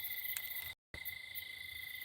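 A nighttime chorus of cicadas, crickets and tree frogs outdoors on a farm keeps up a steady, high-pitched trilling drone with rhythmic chirps pulsing through it, interrupted by a brief moment of total silence partway through.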